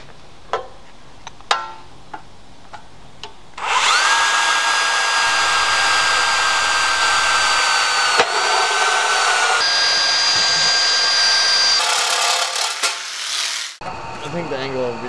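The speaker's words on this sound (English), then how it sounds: "we'll drill a hole for relief in the corner and use the air saw and cut them out" A pneumatic air saw cutting a switch panel for a Corvette build starts after a few clicks and taps, then whines loudly and steadily for several seconds with shifting pitch before stopping, with brief talking.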